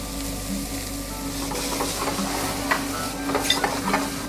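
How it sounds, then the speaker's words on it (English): Smoked pork loin frying in a hot pan with a few drops of olive oil, a steady close sizzle with soft crackles and occasional stirring scrapes throughout. "I'm going to put the smoked pork, this is loin, in a hot pan with olive oil"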